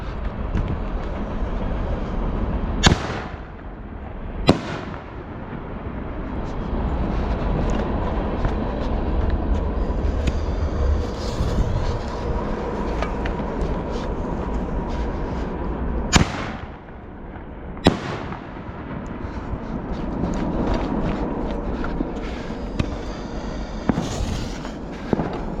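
Consumer fireworks shells for a New Year's show, sharp loud bursts at intervals against a continuous rumbling crackle of launches and explosions, nearby, with no talking.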